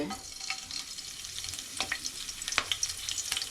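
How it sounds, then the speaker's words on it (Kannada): Hot oil crackling and sizzling in a pan for home-style chicken curry, with sharp irregular pops and spits over a quiet hiss, close and fairly faint, no talk. "ಸ್ವಲ್ಪ ಚಟಪಟ ಅನ್ನಬೇಕು ಬಿಸಿ ಆಗಬೇಕು ಎಣ್ಣೆ"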